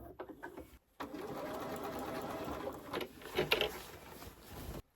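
A sewing machine stitches a quilted wall hanging, running in a steady continuous whir after a short pause at the start, close by with a few light knocks and clicks over the motor.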